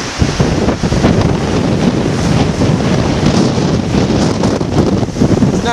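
Strong wind roars across a lake with whitecaps, blasting the microphone with a dense, continuous rush that stays loud and steady, gusts and spray blended into one broad noise.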